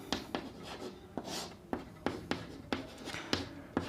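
Chalk or marker strokes on a classroom board during a maths lesson: a steady series of sharp taps and short scratches, about one every half second, close and fairly quiet, with no talking.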